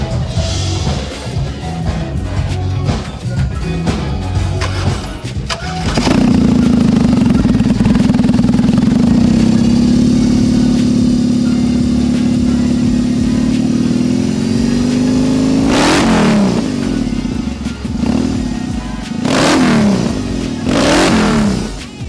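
A custom BMW R18 motorcycle with its big boxer engine cranks and fires up, settling into a loud, steady close-up idle, then snaps through several sharp revs near the end.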